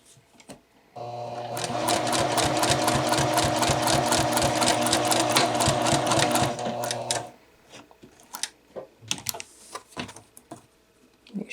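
Sewing machine stitching bound buttonhole welts, a fast rhythmic mechanical whir running steadily for about six seconds close up, followed by scattered clicks and fabric handling.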